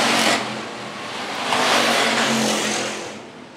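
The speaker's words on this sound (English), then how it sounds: "Austin Davis now at the point as they work down the back straightaway" Hobby stock race cars racing on the Phillips County Raceway track, a loud roaring engine surge that swells as the cars pass and fades, with a broad rushing drone and no talking.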